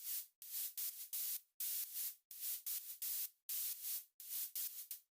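Bursts of bright white noise from a progressive house synth noise layer made in FL Studio Mobile pulse in a choppy staccato rhythm with short gaps between them, fairly faint.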